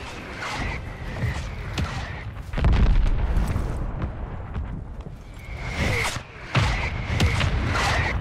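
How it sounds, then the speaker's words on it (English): Mortar strike explosions in a video game: two heavy, booming blasts land a few seconds apart, each followed by a rumbling wash of debris and lingering reverberation. "Mortar strike inbound now."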